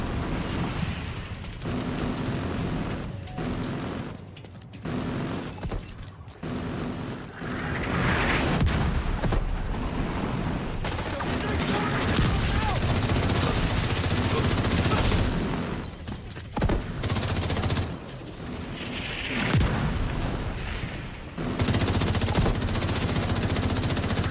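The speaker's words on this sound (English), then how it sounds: "The autocannon seems to be firing blind." Sustained video-game battle with an autocannon firing, mortars and explosions: dense, rumbling bursts of rapid fire and booming blasts overlapping for over twenty seconds, loud and continuous, broken by a few short gaps.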